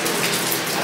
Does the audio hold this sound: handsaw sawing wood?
no